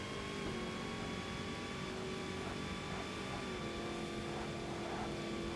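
Race cars from the Forza Motorsport game on Xbox drone steadily with engine hum and shifting tones, a continuous mid-level motor whine with no talk over it.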